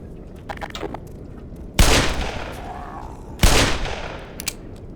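Gunfire in the video game Black Mesa: two loud sharp blasts with decaying echoes a couple of seconds apart, with faint clicks and rattles between them and no talk.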